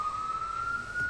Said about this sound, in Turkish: Sirenler var.